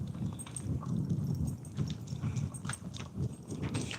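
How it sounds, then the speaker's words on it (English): Foal hooves clip-clop at a steady walking rhythm across an open field, fairly close and moderately loud against a soft outdoor background. "just over there where like there's a little baby horse"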